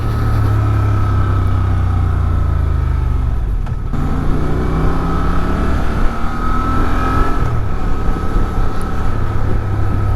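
The engine of a 2023 Honda Transalp XL750 motorcycle roars loud and close on a test ride, its pitch climbing and falling as it revs through the gears under heavy wind noise.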